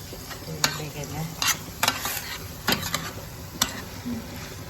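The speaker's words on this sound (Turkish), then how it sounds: "Güzelce bunu güzelce kavralım." Food being stirred and sautéed in a pan for lasagna, a steady sizzle with repeated sharp scrapes and clinks of a utensil against the pan, close and moderately loud, no talking.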